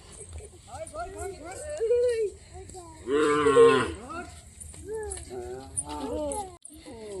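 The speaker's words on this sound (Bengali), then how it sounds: "গরুগুলো কি ডাকতেছে দেখো চারিদিকে শুধু গরু আর গরু" Cows in an open village field moo several times, with loud drawn-out calls rising and falling and one strong close bellow in the middle, while a person talks throughout.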